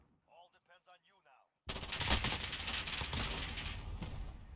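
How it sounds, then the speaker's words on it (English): Gunfight in the video game Call of Duty: Modern Warfare: a voice speaks briefly, then dense, loud, sustained gunfire and battle noise fills the rest. "Missed a couple shots."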